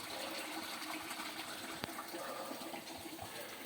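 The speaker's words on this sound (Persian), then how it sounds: "یه چشمه عالی اینجاست." Mountain spring water flows steadily outdoors, a continuous soft rushing and splashing that holds at an even, quiet level without a break.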